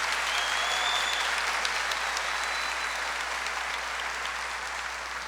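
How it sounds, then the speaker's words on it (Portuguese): Church congregation applauding during a Catholic Mass, a dense, sustained wash of clapping from many hands, loud and steady, tapering a little toward the end. "Vamos aplaudir fortes."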